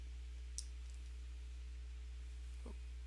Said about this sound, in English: Sorry about that clicking noise.